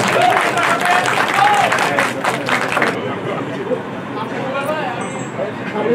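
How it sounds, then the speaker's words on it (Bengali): An audience claps and cheers at a stage event as two people are welcomed with flower bouquets, a dense steady applause that thins after a few seconds while voices and crowd chatter continue underneath. "সবাই একটা হাততালি দে"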